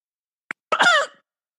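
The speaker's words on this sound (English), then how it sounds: "I had to cough." A single close cough during a Zoom podcast recording: a tiny click, then one short, harsh burst that quickly fades into silence.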